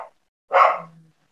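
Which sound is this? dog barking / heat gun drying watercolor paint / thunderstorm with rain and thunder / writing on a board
dog barking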